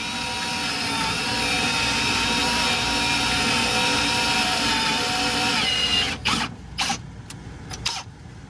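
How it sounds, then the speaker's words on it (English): A power drill whines steadily as it bores through the steel frame of a 1998 Newell 2000 motorhome, then stops; a few short bursts of the drill follow as the trigger is pulsed. "we're going to drill that new one there"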